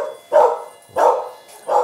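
A farm dog at a riding school barks three times in a loud, close, evenly spaced sequence with no other sounds around it.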